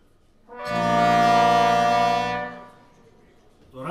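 Brass instruments sound a sustained out-of-tune unison chord, loud and steady for about two seconds, its rich beating harmonics fading out before a faint new sound begins at the end.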